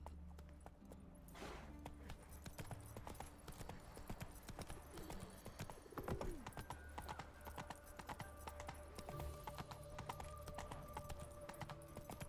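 Hooves clop in a quick continuous rhythm as a horse gallops in The Witcher 3, the pounding steady and fairly close, with occasional snorts and game ambience around it.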